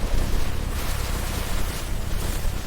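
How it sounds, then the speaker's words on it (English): Heavy rain pours down in a dense, steady hiss with a low rumbling undertone, loud and continuous from start to finish. "Rain! Not just sprinkles, a downpour!"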